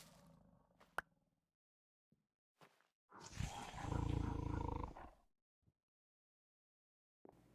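Tiger in the Minecraft Tropics game giving one loud, rough roar lasting about two seconds, set among short scattered clicks and otherwise near-silence.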